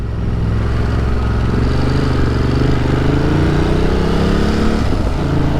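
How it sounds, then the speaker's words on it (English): A Ducati motorcycle ridden along Bedford Avenue, its engine a loud steady low rumble heard close up throughout with slight shifts in pitch as the speed changes. "Forgot that I'm actually riding my bike."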